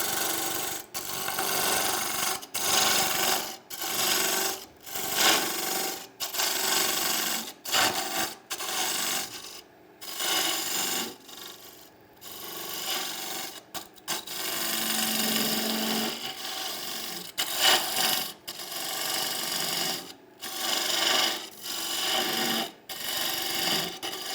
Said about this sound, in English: I can go to this chisel, which is just a square cutter. I'll take this right on down